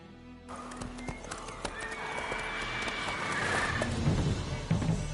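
Roach, a horse in The Witcher 3, gallops with steady hoofbeats and a whinny, loud and close, alone with no voices.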